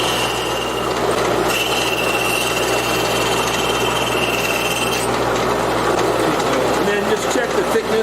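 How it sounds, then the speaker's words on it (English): A thickness sander runs steadily through a pass on a wood workpiece, a loud continuous machine roar with a high whine, under the hum of a workshop. "running it through the thickness sander"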